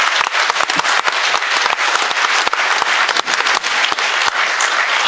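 Loud, sustained applause from the crowd at an evening poetry gathering in Firozabad, dense and steady clapping close up, with no voices over it.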